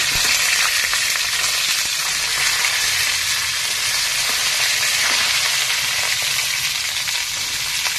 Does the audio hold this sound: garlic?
yes